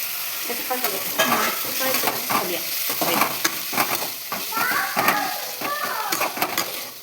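Cooked bean seeds being mixed in a pan with salt, heard as a steady sizzle with close, repeated scraping stirs of a utensil against the pan, without any talking.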